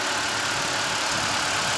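A 2012 Toyota Prius with its 1.8-liter four-cylinder gasoline engine running steadily, a continuous broadband hum with low rumble and no talking.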